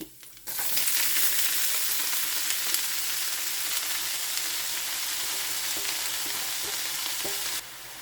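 Cheera, a spinach, goes into a hot pan and sets off a loud, steady sizzle that runs for several seconds before it cuts off abruptly.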